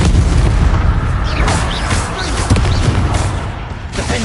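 Confringo fire spells from the Hogwarts Legacy video game burst in a rapid, continuous barrage of loud booms and crackling blasts, heavy and close throughout.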